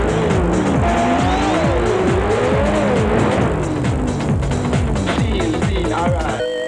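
Racing cars in a realistic racing-simulation video game, engines whining up and down in pitch with overlapping passes and short tire squeals, continuous and loud throughout.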